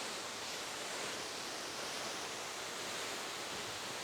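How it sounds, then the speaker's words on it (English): A waterfall at Emerald Pool in Dominica pours steadily, heard from above as a dense, even broadband rush that stays constant throughout with no voices. "So this is the first view of the waterfall of Emerald Pool from above."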